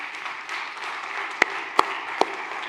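A church congregation claps together in a continuous wash of applause, with a few sharp, louder claps close by standing out over the steady crowd.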